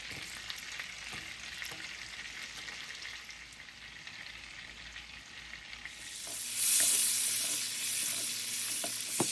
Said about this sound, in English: we're going to go ahead and add some butter to the pot